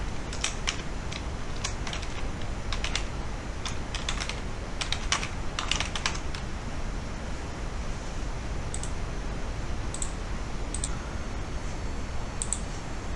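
Close computer keyboard typing in quick bursts of clicks with short pauses, then a few sparse keystrokes, over a steady hiss of background noise.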